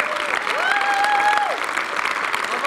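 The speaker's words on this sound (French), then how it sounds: "Donc on peut vraiment l'applaudir très fort." An audience at a festival ceremony applauds loudly and steadily, with a few cheers and whistles over the clapping.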